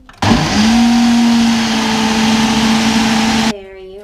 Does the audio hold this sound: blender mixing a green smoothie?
yes